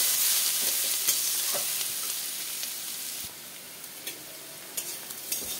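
Chopped onions frying in a pan with oil, a bright steady sizzle that fades somewhat partway through, broken by occasional light clicks and scrapes of a stirring spoon.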